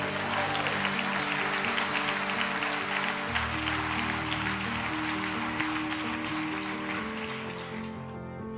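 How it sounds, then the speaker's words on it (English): An audience applauds at a motivational speaking event, a dense patter of clapping that runs throughout with sustained musical tones underneath and fades slightly at the end. "Give yourselves a round of applause."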